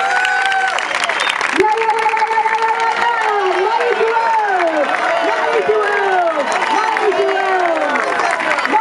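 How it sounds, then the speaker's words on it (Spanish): A crowd applauds steadily, a broad wash of clapping that carries on beneath a loud voice speaking over it. "un fuerte aplauso para ustedes"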